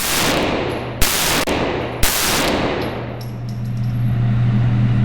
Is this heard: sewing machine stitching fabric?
no